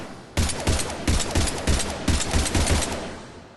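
Predator pistol fire in Mass Effect 3: a loud, close run of roughly a dozen rapid shots in uneven bursts, each crack tailing into the next, with no voices.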